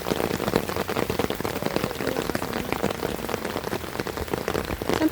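Steady rain falls outdoors with a dense, even patter of drops hitting surfaces, continuous and moderately loud throughout with no voices.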